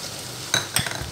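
Grated carrot goes into a pan of chicken shorba, where two quick metallic stirring scrapes and clinks sound over a faint, steady sizzle.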